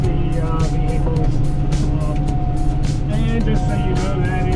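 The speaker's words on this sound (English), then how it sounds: "You'll see vehicles and stuff going down the highway." Steady roar of highway traffic on the Florida Turnpike, cars and white trucks passing continuously and fairly loud, with a voice talking over it.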